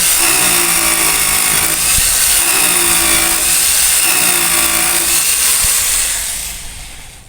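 A power drill drives screws during house construction work. It gives a loud, continuous whining drone with rhythmic pulses, then trails off and fades at the end.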